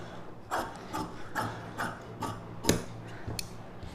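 Scissors cutting silk saree fabric for a star neck blouse, giving about eight soft, evenly spaced snips and rustles over a few seconds, close up and fairly quiet.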